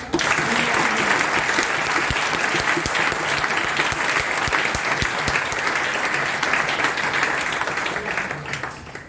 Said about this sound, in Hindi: तो इसीलिए जोरदार तालियां।